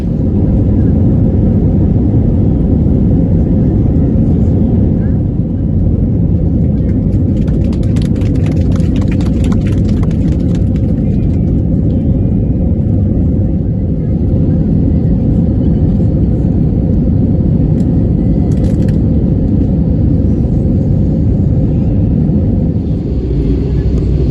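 Cabin noise on a passenger flight from Egypt: a loud, steady low-frequency roar of engines and airflow fills the whole stretch, with faint clicks and rustles on top and no speech.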